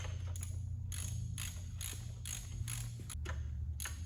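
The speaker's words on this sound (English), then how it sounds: "And just snug with these with a ratchet" A ratchet snugs bolts on a SYXMoto SPRK 60V electric dirt bike, producing a quiet, rhythmic series of clicking strokes, roughly one every half second, close but faint over a low background hum.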